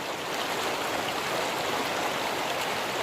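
Deep creek water gushes past a large rock, a loud, continuous broadband rush with no pauses and no voices, steady from start to finish.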